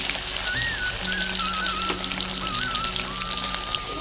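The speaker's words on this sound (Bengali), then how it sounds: "চলো বন্ধুরা আলুটাকে লাল করে ভেজে নিই" Potato pieces fry in hot oil in a village kitchen, giving a steady, close, dense crackling hiss that runs unbroken throughout, with a faint tonal whine drifting above it and no voices.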